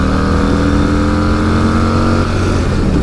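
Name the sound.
Harley-Davidson Breakout 117 motorcycle engine hitting rev limiter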